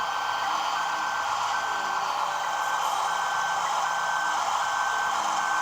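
Reversing beeps sound from a vehicle in the mobile game Farming Simulator 18, a steady tone repeating under a loud, constant engine hum, with no talk.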